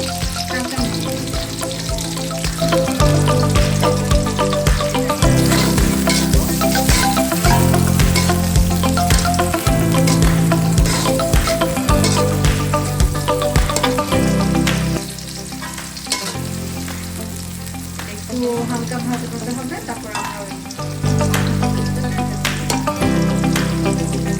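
Raw onions frying in a pan while making goat kidney kebab, a steady loud sizzle with stirring scrapes throughout, over continuous background music.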